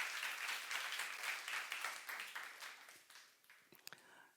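A church congregation at a youth service applauds, a dense, steady wash of many hands clapping at moderate distance that thins and tapers off over the last second with a few scattered claps.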